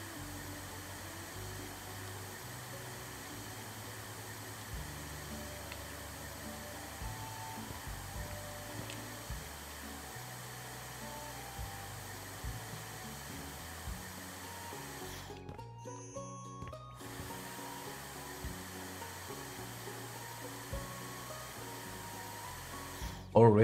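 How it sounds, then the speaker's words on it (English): A vacuum cleaner runs in the House Flipper 2 video game, a steady whirring motor drone that holds for most of the stretch and cuts out briefly near the end before resuming. "Vacuum, please."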